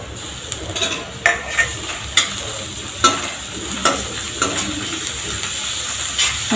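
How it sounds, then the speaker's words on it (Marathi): Chopped ginger and garlic sauté in a pan, with a constant close sizzle and hiss broken by regular scraping strokes of a spatula. "छान असं परतवून घ्यायचं, त्याचा कच्चेपणा गेला पाहिजे"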